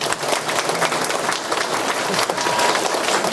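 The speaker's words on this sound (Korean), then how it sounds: "박수 부탁드리겠습니다" A room full of residents at a neighborhood briefing applauds vigorously for over three seconds, loud, close and continuous clapping with no pauses and no talk over it.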